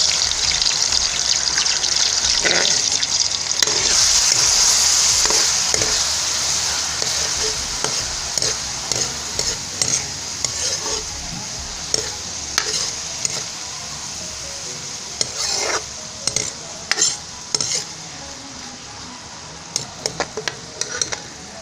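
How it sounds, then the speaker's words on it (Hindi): Onions sizzling and frying in hot ghee, a steady loud hiss with occasional stirring scrapes and clicks, close by and without speech. "प्याज हमारा फ्राई हो रहा है।"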